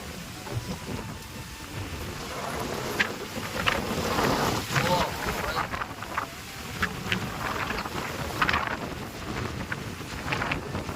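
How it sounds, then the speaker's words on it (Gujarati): Strong wind roars and buffets the microphone on a farm during heavy rain, gusting in uneven surges with rumbling bursts. A voice is faintly audible beneath the noise. "અત્યારે પવન ફૂલ આવી રહ્યું છે, તમે જોઈ શકો છો અહીંયા"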